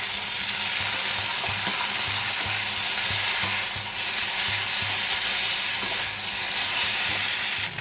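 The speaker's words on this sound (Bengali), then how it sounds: "চাউমিনটাকে ভালো করে ভাজবো।" Chowmein tossed with peanuts and salt in a hot pan, frying with a steady close sizzle and soft stirring scrapes throughout, no voices.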